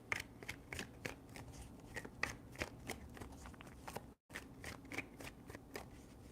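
Tarot cards are shuffled by hand close up in quick repeated riffles, a rhythmic papery flutter with one brief pause before the shuffling resumes.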